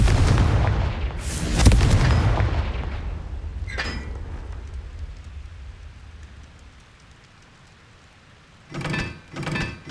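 A Confringo fire spell blast in Hogwarts Legacy on PS5: loud booming impacts at the start fade into a lingering rumble and hiss, followed by a few muffled thuds near the end.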